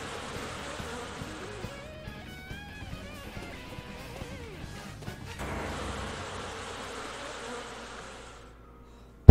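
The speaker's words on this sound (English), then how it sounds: "The killer bees are after me." Killer bees swarm in the game Goosebumps: Dead of Night, a dense, continuous buzzing that rises and shifts, with a few thuds underneath before the sound fades out near the end.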